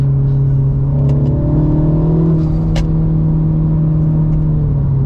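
A 2023 Mini Cooper S engine hums steadily and climbs in pitch as it accelerates, heard up close from inside with a constant road rumble underneath.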